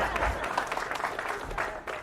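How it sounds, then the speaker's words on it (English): A press conference crowd claps in a standing ovation, a faint, steady patter of applause with scattered louder claps and murmuring voices. "A standing ovation."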